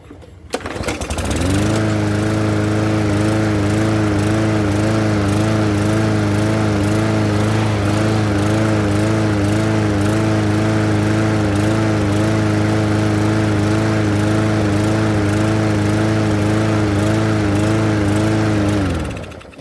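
A Yard Machine walk-behind lawnmower, its carburetor recently cleaned of sand, starts and runs at a steady loud idle with a constant buzzing drone and slight wavering, close to the microphone for nearly twenty seconds.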